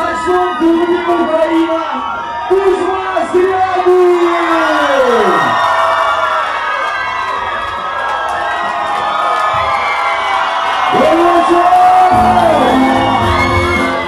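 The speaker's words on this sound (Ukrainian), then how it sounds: "Дівчачі верещання та крики хлопців були гучніші за музику." At a concert, a huge crowd of girls shrieks and boys shout, whooping and cheering in a loud, sustained roar with rising and falling screams.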